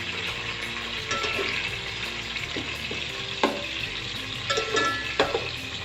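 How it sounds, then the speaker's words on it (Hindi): Onions cooking among whole spices in a pan for keema, a continuous close sizzle with occasional spoon clinks and scrapes against the metal. "बस प्याज को मैं 2 से 3 मिनट के लिए पकाऊंगी"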